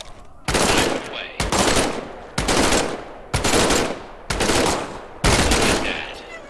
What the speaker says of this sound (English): grab your M1A1 submachine gun